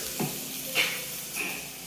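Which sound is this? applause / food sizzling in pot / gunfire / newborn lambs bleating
food sizzling in pot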